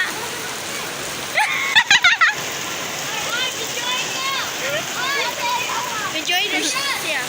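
Heavy rain pours in a steady wash with some louder splashes near the start, while people talk over it throughout.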